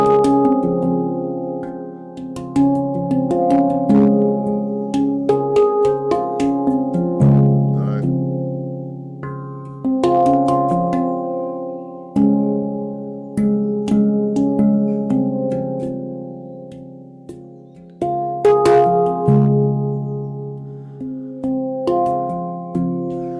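A handpan is played solo, with ringing metallic tones struck one after another in a flowing, unhurried melody, each note blooming and slowly decaying, close and clear throughout.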